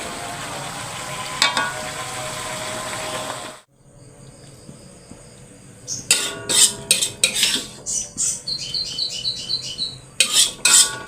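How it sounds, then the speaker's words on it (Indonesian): A spoon or spatula stirs food in a pan with sugar added, making clinks and scrapes over a steady sizzle, then a run of sharp metallic taps and scrapes in quick succession. "Aduk-aduk."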